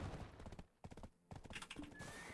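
Hooves clip-clop in quick uneven beats as a horse is ridden in the online game Black Desert, with a whinny and brief gaps, sounding close and moderately loud.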